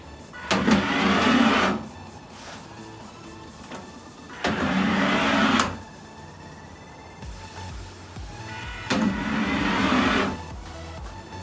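A small Elegoo Robot Car Mini in explore mode, its little electric motors whirring in three separate bursts of roughly a second each, separated by quieter gaps, close and moderately loud with no talking.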